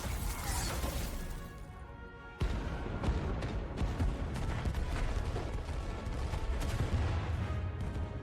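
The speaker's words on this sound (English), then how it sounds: "Man, they fire so many torpedoes." A spaceship unleashes a barrage of torpedoes in the Star Trek Resurgence video game: dense, loud bursts and booming impacts pile over one another, with a sharp cut after two seconds and then continuous heavy fire.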